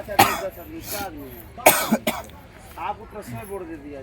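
A few harsh coughs from a cold and throat clearing at close range inside a vehicle at night, mixed with a voice talking between them.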